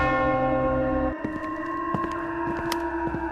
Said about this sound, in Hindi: ये घंटी किसने बजाई?